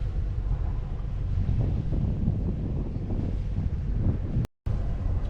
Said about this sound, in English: The wind eventually came, so the last few hours I've been sailing downwind.